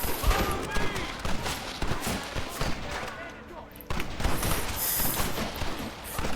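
Gunfire from the Red Dead Redemption game crackles in dense, rapid volleys of overlapping shots that go on throughout, with a brief lull midway before another heavy burst.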